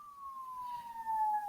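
A single siren wails outside, faint and distant, in one long tone that slides slowly downward.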